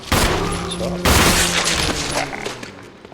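Hand grenade blasts in Resident Evil, a loud burst of overlapping explosive booms and crackling debris, with a second heavy blast about a second in, fading into rumbling echoes.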